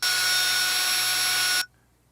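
A loud, steady high-pitched whine of a power drill boring into metal on a Kohler Magnum 20hp engine project, running continuously, then cutting off abruptly, leaving near silence.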